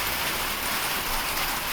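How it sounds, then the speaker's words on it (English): Rain falls on the tin roof of a garage, a steady dense hiss of drops that stays even and fairly loud from start to finish, with no voices. "Sorry about the rain in the background"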